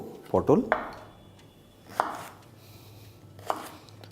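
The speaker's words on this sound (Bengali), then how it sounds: "পটলটাও ঠিক এরকম বড় বড় করেই কাটবো" A knife chops pointed gourd into large chunks on a board, a quick cluster of close thuds followed by two more single chops spaced a second or so apart, with quiet room tone between.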